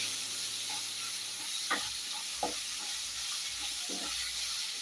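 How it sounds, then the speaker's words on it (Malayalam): Chicken kondattam being stirred in a pan with chilli masala, giving a steady hiss and sizzle with a few soft scraping stirs and no talk. "നമുക്കത് നന്നായിട്ട് ഇളക്കി കൊടുക്കാം ആ മസാലപ്പുള്ള മുളക് പൊടി ഇട്ട് കൊടുത്തിട്ടുണ്ട്"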